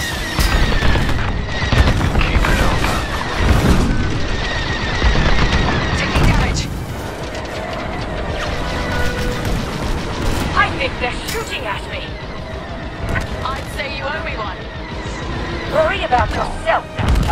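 Enemy starfighters firing in Star Wars: Squadrons, with dense blasts and booms running steadily throughout, loud and layered under voices and music.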